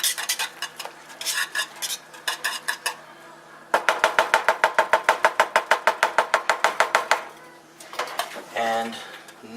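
Spoon stirring steaming homemade BBQ sauce with molasses in a pot, a rapid run of rhythmic scraping clinks against the pot sides, close and clear, with a few slower stirs before and after.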